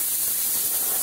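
An airbrush sprays finely atomised paint in a steady, close hiss of bright air noise, continuous and unbroken for about a second.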